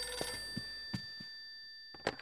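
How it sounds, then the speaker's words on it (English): An old-style telephone bell rings in the horror video game Eternal Darkness: Sanity's Requiem, with bright sustained tones and short rattling bursts at steady intervals. The sound is moderately loud and heard alone. "Got a phone call."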